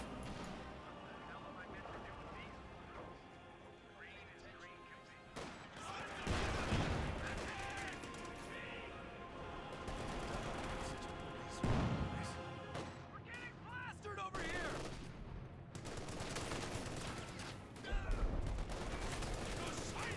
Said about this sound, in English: we do got another light artillery barrage coming on down